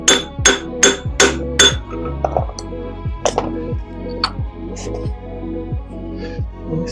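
A hammer strikes a brass drift against the piston of a broken Suzuki Cappuccino kei car engine: sharp metallic blows, first a quick run of four, then spaced single hits, close and loud with a ringing tail.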